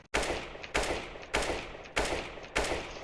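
Five evenly spaced gunshots ring out in the video game CS:GO, each a sharp loud crack that fades before the next, about two per second, with no voice over them.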